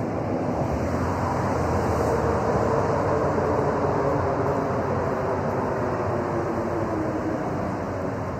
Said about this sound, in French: Qu'est-ce que c'est le chant du métro quand il démarre?